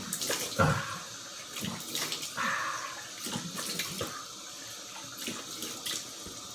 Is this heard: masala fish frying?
no